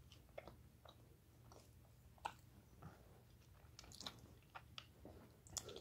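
Someone bites and chews a crunchy brain while eating, with soft wet squishes and a few sharp crackling crunches close to the mic, irregular and fairly quiet.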